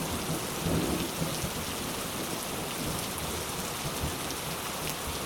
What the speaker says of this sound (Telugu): చాలా అంటే చాలా వర్షం పడుతుంది.